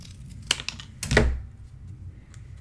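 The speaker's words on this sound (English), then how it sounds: "And I'm just cutting it with my Tim Holtz, and I'm just going to cut it in half." Tim Holtz scissors cutting a piece of chipboard in half, two short crisp snips close to the listener, the second longer and louder, then quiet.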